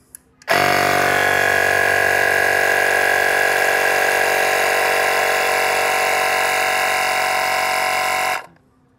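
An Agaro tyre inflator pumping up a bike tyre, a loud, steady motorized buzz that starts abruptly, runs evenly for about eight seconds and then cuts off.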